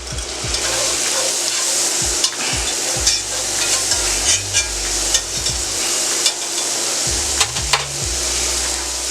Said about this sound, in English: in the same skillet, I put a little bit more butter in here. And we're going to add our onion onto here.